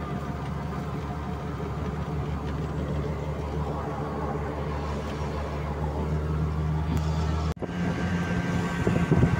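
An auto rickshaw drives along a road toward Mandangad, its engine a continuous close drone with road and wind noise, briefly dipping near the end before resuming.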